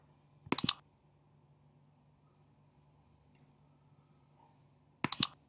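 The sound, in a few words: computer mouse clicking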